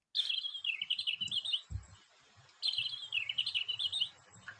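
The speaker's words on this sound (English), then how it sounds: "I'm going to go for a blackbird" A blackbird (Turdus merula) sings two clear, warbling phrases with a gap between them. The song is fairly close, over faint low background rumble and a single soft thump.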